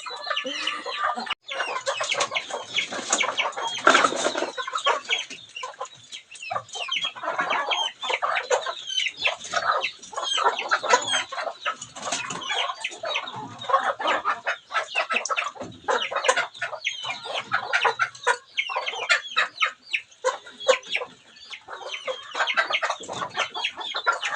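A flock of chickens clucking busily while being fed, dense overlapping clucks and squawks close by that run continuously with no pause, with no talking.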